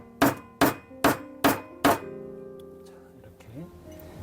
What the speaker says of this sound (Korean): 우레탄 망치를 써야 부품에 데미지가 없어요.